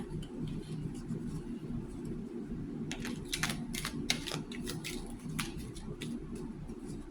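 Tarot cards are shuffled close by in a rapid burst of papery clicks and flutters over a low steady room hum.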